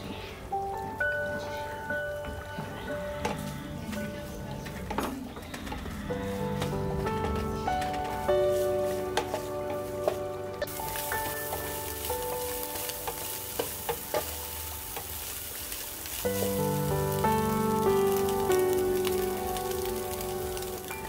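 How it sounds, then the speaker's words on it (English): Onions tossed into a pan of browned ground beef for homemade beef chili, a continuous crackling sizzle with stirring scrapes, swelling louder partway through under faint background music. "Let's add the onions now."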